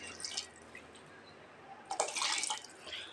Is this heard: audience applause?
no